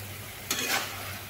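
Red amaranth leaf curry being sautéed in a pan, with a short scraping stir and a soft sizzle rising briefly in the middle, fairly quiet and with no talking.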